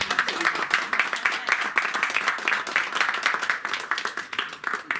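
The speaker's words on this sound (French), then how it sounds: "donnez-vous l'applaudissement." A live audience at a talk breaks into sustained applause, many hands clapping densely and loudly throughout with a slightly uneven, pulsing rhythm.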